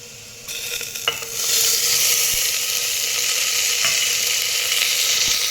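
Potato and tomato are sautéed in oil in a pan for dal khichdi. A couple of clinks come first, then a loud sizzle surges up close and holds steady to the end.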